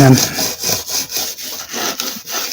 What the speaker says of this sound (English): all the old paint underneath is getting activated, and it's allowing me to rub off the rubber